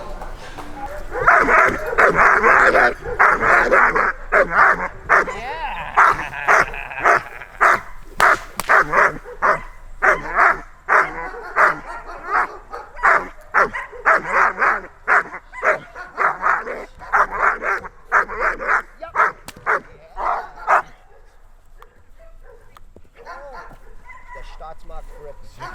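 A dog barks repeatedly in a long, steady run of sharp, loud, close barks during protection training, mixed with whimpers and yips, while a person talks over it; the barking stops near the end.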